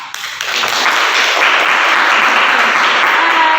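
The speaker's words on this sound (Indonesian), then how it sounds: "Tepuk tangan dulu." A university class breaks into applause, a loud, steady wash of many hands clapping close by, sustained without speech.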